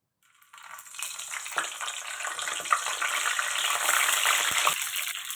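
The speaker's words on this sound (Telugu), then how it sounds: "ఆయిల్ హీట్ ఎక్కింది ఇప్పుడు మనం వంకాయ వేసుకుందాము" Eggplant dropped into hot oil, a sudden sizzle that rises after a quiet start into a loud, steady close hiss with crackling pops, no voices.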